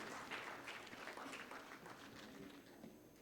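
Audience at the MANTHAN-2023 grand finale applauding to welcome the FKCCI President-elect, a faint, distant patter of many hands clapping that gradually tapers off.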